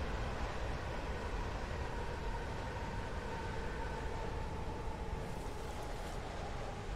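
Tokyo commuter train idling at a station on the Keihin-Tohoku or Utsunomiya line, a steady broadband rumble and hiss with a faint sustained tonal hum, even and continuous throughout.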